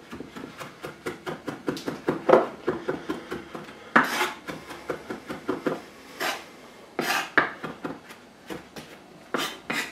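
A knife chops fresh cilantro on a board in a steady run of quick, sharp taps, close and fairly loud, with a few brief pauses and heavier strokes scattered through.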